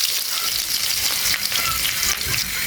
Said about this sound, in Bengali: আমার কড়াই গরম হয়েছে, আমি এখন তেল দিয়ে দেবো